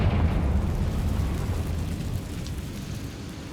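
A Confringo fire spell blasts in Hogwarts Legacy with a loud, deep booming roar that rolls on as a sustained low rumble for several seconds, with no voices.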